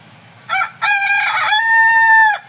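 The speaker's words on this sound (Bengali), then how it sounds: "আরেকজন মুরগি, দেশি মুরগ ডাকাটাকি করতেছে।" A native rooster crows nearby, a loud, clear call with a short opening note followed by a long, drawn-out cry of about two seconds.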